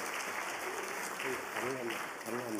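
A church congregation claps for a guest preacher, giving quiet, continuous applause over a steady background hum, with voices talking over it throughout.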